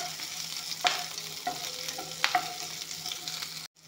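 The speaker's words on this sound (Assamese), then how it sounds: "তেজপাত, পাঁচফোৰণ ধুনীয়াকৈ অলপমান ভাজি ল'ম।" Bay leaves and panch phoron spices fry in a hot pan with a steady close sizzle, broken by a few sharp scrapes and clicks of stirring, with no voices.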